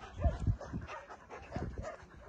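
A female dog warning off other dogs gives low, muffled barks mixed with whimpering yips, a few irregular bursts at moderate distance over background noise.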